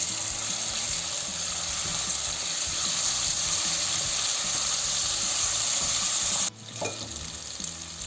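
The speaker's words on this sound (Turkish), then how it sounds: "Ve şimdi salçamızı da havucumuzla beraber şöyle bir kavuralım." Tomato and pepper paste sautés with carrots in a pot, a close, dense, steady sizzle that drops abruptly near the end, followed by a quieter crackle.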